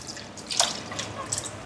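A faint, brief trickle of water dribbling into a thick semolina uthappam batter, soft and close.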